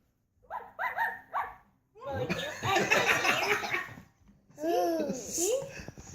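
A dog gives a few barks amid a family Christmas gathering with a grandchild, the sounds mixed with excited voices and laughter close by.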